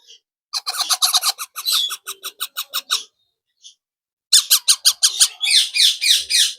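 Baby myna birds being hand-fed through a pipe give rapid bursts of shrill, insistent begging squawks close by, pausing briefly between volleys before starting up again.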